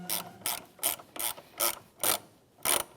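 Ratchet with a 10mm socket tightening a car battery's negative terminal on a 2007-2013 Acura MDX, seven quick, crisp clicking bursts in an even rhythm, close up, with no talking.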